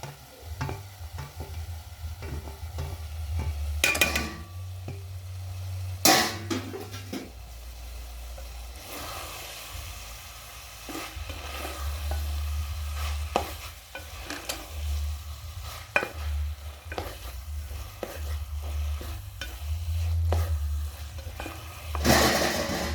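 Okra added to a hot pan and stirred, bursts of sizzling frying with intermittent scraping and clinks of a utensil against metal, occasional louder knocks, no speech over roughly twenty seconds.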